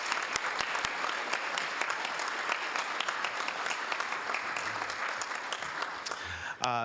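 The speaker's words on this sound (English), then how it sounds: "let's give Councilmember Roach a big round of applause" Council meeting attendees give a big round of applause for a councilmember, sustained crowd clapping with sharp individual claps standing out, a voice briefly heard at the end.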